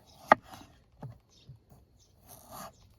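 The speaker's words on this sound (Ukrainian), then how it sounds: "Нарізання картоплі." A knife cutting potatoes, a sharp single chop followed by a few quieter cuts and scrapes against a board, close and sparse with faint background sound.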